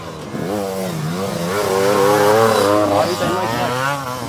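A racing motorcycle in a French endurance race at Hossegor pulls away after refuelling, its engine revving hard and rising in pitch through quick gear changes, loud and close.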